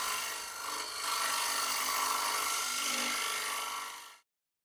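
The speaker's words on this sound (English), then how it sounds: "the mushroom tool can access deep under the rim of the bowl" Mushroom hollowing tool cutting deep under the rim of a wooden bowl on a TurnMaster lathe, a steady, close, rasping scrape held for about four seconds before stopping abruptly.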